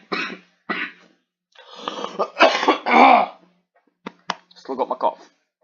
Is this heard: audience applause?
no